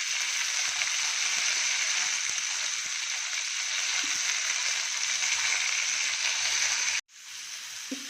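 Ingredients for a green peas pulao side dish fry in a pan with a steady, close hiss that holds for about seven seconds, then cuts off and comes back quieter.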